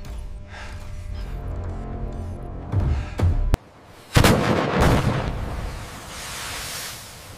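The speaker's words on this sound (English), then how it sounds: "Deploying Nulka decoys. Full electronic signature barrage." A Navy destroyer launches Nulka decoys in a barrage, heard as a rising rumble, a sharp blast, a brief hush and then a loud roaring launch burst fading into a long dull wash.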